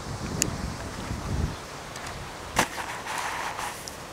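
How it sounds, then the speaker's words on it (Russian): Steady wind noise rushes over the microphone outdoors at a model rocket launch site, gusty and low, with a couple of brief sharp clicks and a sudden bump in the middle. "дождемся, когда стихнет ветер"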